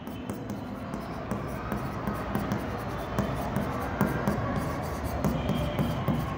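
Pen scratching on paper in a commerce lesson writing out bank final accounts, a continuous rapid scribble with small tapping strokes, close and fairly quiet throughout.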